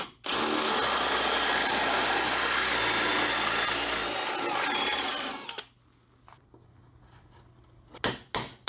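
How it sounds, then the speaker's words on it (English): A power drill fitted with a 21 mm bamboo bit bores a hole, whining loud and steady at close range for about five seconds before cutting off. A few light clicks and handling knocks follow. "Let me drill a hole with this and see how well the plug fits in it."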